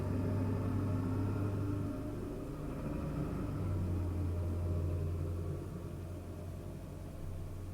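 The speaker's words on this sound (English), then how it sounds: "my neighbor's truck is so loud." A neighbor's truck outside gives off a steady, droning low rumble, heard indoors from a distance and holding fairly even throughout with no talking over it.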